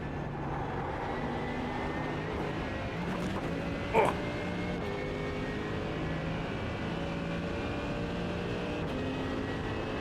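In the iRacing simulator, a Porsche 911 RSR engine howls continuously with shifting pitch tones, loud and sustained, with a brief sharp transient midway.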